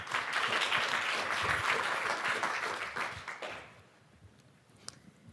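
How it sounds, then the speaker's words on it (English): Hearty applause from the crowd at a startup final pitch night greets a pitch team, the clapping steady for over three seconds before tapering off to near silence with a few stray claps. "Round of applause for Green Grids"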